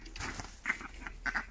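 Ducks quack near a husky puppy outdoors, several nasal calls in quick bursts, faint but clear, with no talk over them.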